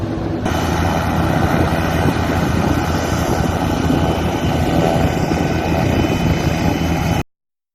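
A medical evacuation helicopter flies in strong wind, its rotor and engine a loud, steady roar throughout that cuts off abruptly near the end.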